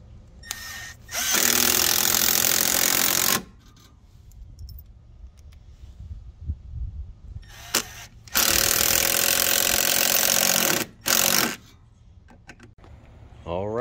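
A lawn mower fitted with a striping kit runs in two loud, steady bursts of engine roar, each a couple of seconds long with a short stop after the second, separated by quieter handling sounds in between.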